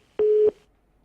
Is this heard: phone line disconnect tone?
yes